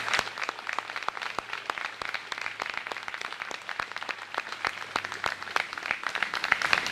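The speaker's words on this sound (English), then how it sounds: "Let's celebrate these amazing students with a round of applause." Sparse audience applause for students at a school orchard ceremony, with distinct individual claps standing out over a thin spread of clapping, fairly quiet and steady throughout.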